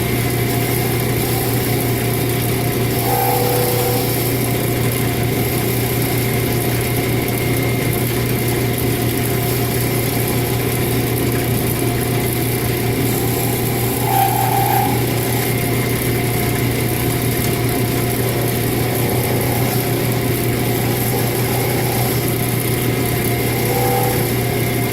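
A wood lathe turns a magic wand, giving a steady, loud mechanical whir with a constant hum that runs unbroken for the whole stretch, with no talking.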